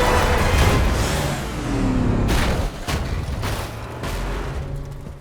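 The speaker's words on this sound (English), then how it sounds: "The explosion on the trawler," A special-effects explosion on a real trawler for a film gives off a loud, sustained rumbling roar that keeps going with heavy booming surges for several seconds, and no one speaks.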